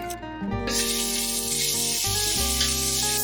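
Meat hits a pan with bacon fat and browns for a 1918-style white bolognese. A near, loud sizzle bursts in after a brief quiet start and holds steady beneath background music.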